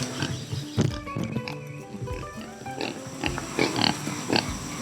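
Native pigs, one of about a hundred in a pen on a farm behind a 10,000-volt electric fence, grunt and squeal in short repeated bursts, close and fairly loud, with no one talking.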